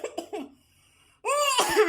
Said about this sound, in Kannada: ಹಂಗ ಇದು ಕೆಮ್ಮು ಹತ್ಕೊಂತ ಹೋಗ್ಬಿಡ್ತತಿವ.